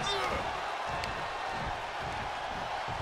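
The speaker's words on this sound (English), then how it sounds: "The sound of this crowd is deafening, and he's asking for more." Arena crowd at a professional wrestling match featuring Andre the Giant and Big John Studd, a loud, sustained roar of cheering and shouting that fills the space without letup.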